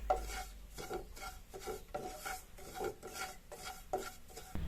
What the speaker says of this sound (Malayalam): റവ വറുത്തെടുക്കുമ്പോൾ അധികം കളർ മാറിപ്പോകേണ്ട ആവശ്യമില്ല